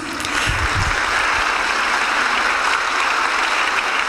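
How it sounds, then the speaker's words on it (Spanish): An audience applauds students at a school event, a dense, loud and steady wash of clapping that fills the whole stretch. "este nutrido aplauso es para ustedes"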